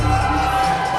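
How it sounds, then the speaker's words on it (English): Fans in the crowd at a Caged Aggression MMA cage fight cheer loudly and steadily for a hometown fighter, a dense roar of many voices filling the arena. "He got a lot of fans cheering for him."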